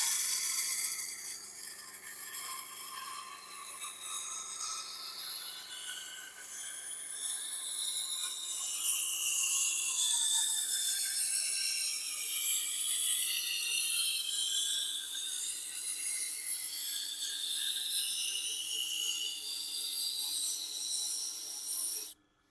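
A Tormek sharpener grinds a long curved knife, a steady bright rasping hiss as the blade is rocked across the wheel, close and continuous for about twenty seconds before stopping abruptly.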